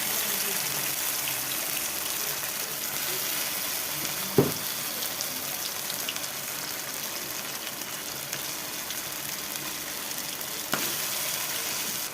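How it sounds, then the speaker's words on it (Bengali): Spice paste frying in hot oil for a taro and fish curry, a steady, fairly loud crackling sizzle throughout with a couple of brief clicks, and no talking. "তো মশলাটা আমি তেলের মধ্যে দিয়ে দিচ্ছি"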